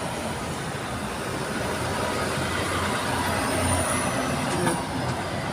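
Heavy road traffic rumbles steadily at close range, broadband and loud, with tour coaches pulling up near a fortress, including a faint brake hiss and a high whine in the background.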